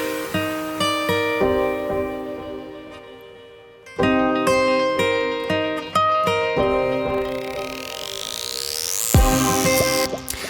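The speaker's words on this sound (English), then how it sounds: "So you can hear it's doing some delay taps in the background." An instrument sound is run through the Supermassive delay plugin with the reverbs switched off, and repeating delay taps trail behind the sustained tones, then a rising swoosh builds near the end.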